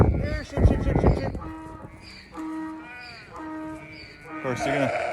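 Several sheep bleat in a farmyard near a new barn, wavering calls rising and falling one after another, some close and loud, others fainter, with a person's voice calling them at the start.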